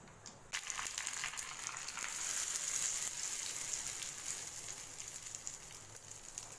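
Tempering spices crackle and sizzle in hot oil for a Chettinad garlic chutney, a dense, even frying hiss that starts abruptly and carries on for several seconds without speech.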